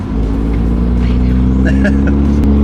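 A manual BMW M3 accelerates with a loud, steady engine drone and humming tones heard from inside the car, while a voice talks over it.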